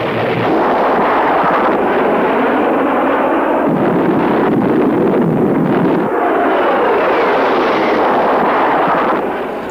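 A Harrier GR-3 jet attacks a target on a firing range, giving a loud, continuous roar of engine and weapons fire that rumbles without letup, swelling and easing slightly throughout.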